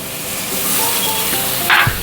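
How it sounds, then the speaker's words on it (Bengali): A ground spice paste mixed with water is poured into vegetables frying in a pan, giving a steady close sizzle with a brief sharper hiss and a clink of a utensil near the end. "এই গুঁড়ো মশলাটাই জল দিয়ে গুলে আমি এর মধ্যে দিয়ে দেবো এখনই"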